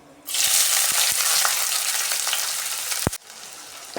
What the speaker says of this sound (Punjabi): ਮੈਂ ਪਿਆਜ਼ ਮਰਚਾਂ ਅਦਰਕ ਲਸਣ ਪਹਿਲੇ ਕੱਟ ਲਿਆ ਤੇ ਇਹਨੂੰ ਵੀ ਅਸੀਂ ਤੇਲ ਦੇ ਵਿੱਚ ਪਾਵਾਂਗੇ